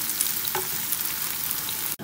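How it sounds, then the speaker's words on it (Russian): Chopped onion and pepper fry together in a pan, giving a steady, close sizzling hiss that stays even throughout with no talking. "Затем к луку мы кладем перец и тоже это все пережариваем"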